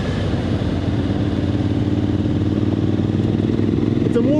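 A Honda Africa Twin motorcycle engine runs loudly and close, a steady throbbing rumble throughout, with a rider's voice over it.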